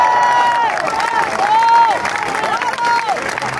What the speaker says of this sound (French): Merci à Val Doyer qu'on peut applaudir très fort